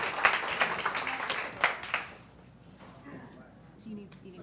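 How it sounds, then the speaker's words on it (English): An audience claps for a student team's presentation at a school innovation competition; a burst of applause with sharp claps lasts about two seconds, then fades into quiet room noise. "I'd like a special round of applause"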